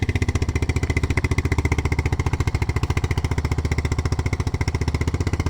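An old Yamaha Big Bear 350 ATV idling with the choke on, a loud close single-cylinder engine thumping in a fast, steady pulse with no talking.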